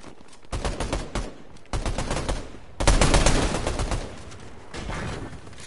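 Fortnite gunfire rattles in dense, sustained volleys, with several bursts of rapid shots close together at steady loudness and no gaps of silence.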